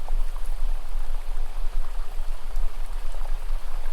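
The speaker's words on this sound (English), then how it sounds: "towards that sound of water" Water from a stream or lake flows at night, a steady dense rush with soft trickling and bubbling throughout, close and continuous with no voices.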